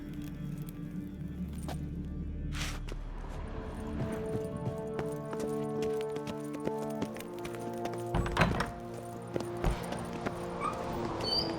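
A horse's hooves clip-clop in a quick, rhythmic gallop in The Witcher 3, steady and moderately close, over sustained tonal game music.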